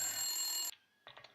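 A telephone rings in the PS1 game Silent Hill, a bright electronic trill that cuts off abruptly, followed after a short pause by the start of another burst.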